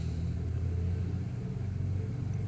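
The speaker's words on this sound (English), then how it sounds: "There comes my landlord's car pulling up." A car pulls up outside, a low, steady engine rumble that holds at a moderate level, heard from some distance with no talking.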